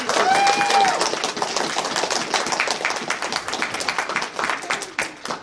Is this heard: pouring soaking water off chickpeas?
no